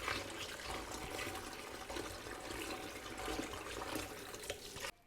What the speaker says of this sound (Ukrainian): Як поріжу, також промиваю водою холодною.